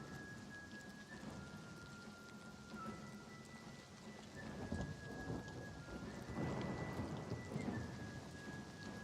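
Thunderstorm in the Oblivion Remastered video game: steady heavy rain hiss with low rumbling thunder swelling in the background, a faint tonal music line drifting above, continuous and distant-sounding, no voices.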